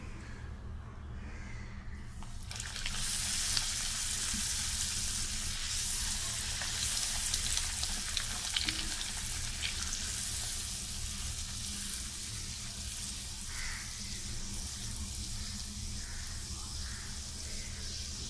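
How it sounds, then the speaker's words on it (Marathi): Karanji, stuffed sweet pastries, frying in heated oil over a low gas flame, a steady close sizzle that swells in after a quiet start and holds evenly, with occasional crows cawing faintly outside. "आता स्लो गॅसवर आपण करंजी तळून घेऊया।"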